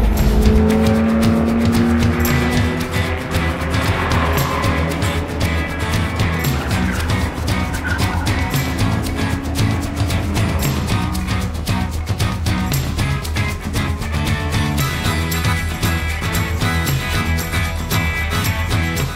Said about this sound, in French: Écoutez ce bruit de voiture, c'est merveilleux.